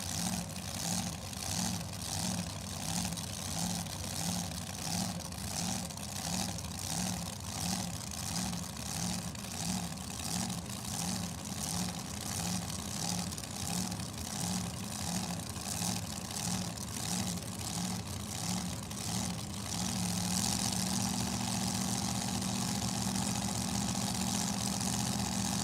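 A dragster engine at Numidia Dragway idles with a steady, pulsing rhythm, then the sound thickens and grows louder near the end, faint and somewhat distant throughout.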